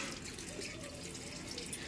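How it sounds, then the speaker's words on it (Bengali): Catla, pomfret and hilsa fish are rinsed under steady running water outdoors, a continuous hissing splash close by. "তাই এগুলো এখন ধুচ্ছি"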